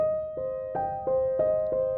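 Piano chords struck with the sustain pedal held, a steady ringing tone underneath as a new chord lands roughly every third of a second, each attack blooming into the last without gaps; close and moderately loud, no talking.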